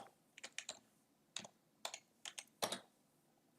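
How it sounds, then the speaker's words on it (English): Keys tapped on a computer keyboard in a quiet room, a sparse run of light clicks in small clusters that ends on one louder, sharper keystroke. "I'm typing it in the room."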